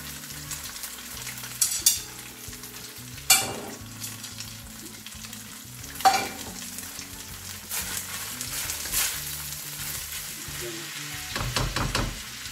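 Cabbage and carrots hitting a hot wok for chicken chow mein, with loud sizzling bursts as the vegetables go in and steady frying and stirring scrapes in between.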